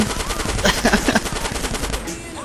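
Gunfire in Grand Theft Auto San Andreas, a rapid burst of automatic shots in the middle, heard alongside game sounds and a voice.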